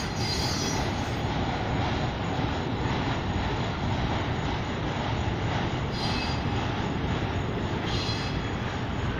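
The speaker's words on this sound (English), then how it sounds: "I thought we'd come out here and catch a train on video today." A train rumbles past close by, a loud steady roar of wheels on rails with metallic squeals, continuous for the whole stretch.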